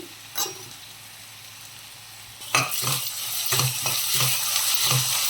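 Ginger garlic paste with curry leaves, salt and turmeric fries in a pan: a quiet sizzle, then from midway a louder steady crackle broken by repeated scraping stirs of a spoon against the pan.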